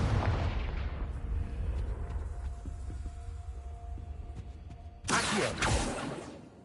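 A Confringo fire spell cast in Hogwarts Legacy bursts with a loud rumbling explosion that fades into a long decaying tail, followed by a second sharp whooshing blast near the end.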